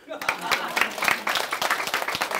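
Brief round of audience clapping at an invited lecture in a village hall, quick irregular claps from a modest crowd, fairly close and moderately loud, with a voice talking over it.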